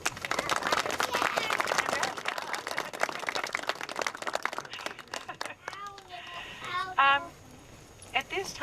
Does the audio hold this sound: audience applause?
yes